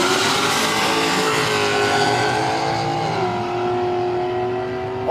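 A race car launches at a drag racing event: a loud, close engine roars at high revs with a sustained droning whine, its pitch stepping up through a gear change before easing slightly toward the end.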